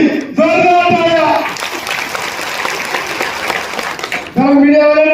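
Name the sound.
crowd applause at political rally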